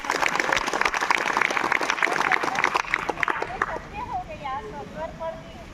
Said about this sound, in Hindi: तो एक बार तालियां होनी चाहिए।